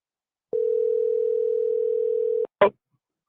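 A steady telephone dial tone sounds alone for about two seconds during a callback, then cuts off with a click, followed by a brief burst of noise.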